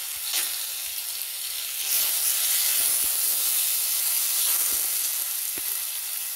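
Onion, tomatoes, green chillies and garlic cooking in a pan give a steady, bright frying sizzle and steamy hiss, broken by occasional soft stirring taps, close and with no voices.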